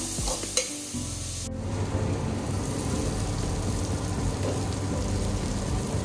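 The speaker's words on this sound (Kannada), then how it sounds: "ಟೊಮೆಟೊ ಸ್ವಲ್ಪ ಮೆತ್ತಗಾಗಬೇಕು, ಅಲ್ಲಿ ತನಕ ಫ್ರೈ ಮಾಡ್ಕೋಬೇಕು." Tomatoes frying in a pan for dal tadka, a steady close sizzle with scraping stirs from a spoon, preceded by a brief clatter of ingredients going in.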